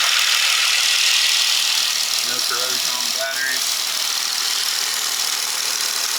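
A 2016 Jeep Wrangler Unlimited Sahara engine idles under the hood with a steady hum and broadband noise while someone talks over it close by.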